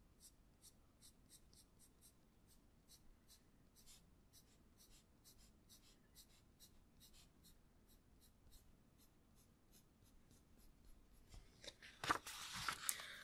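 Colored pencil shading on paper during a hairdressing-certificate drawing demonstration, a steady run of quick, scratchy strokes close by, growing louder and rougher near the end.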